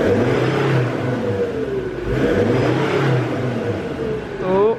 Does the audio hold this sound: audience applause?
no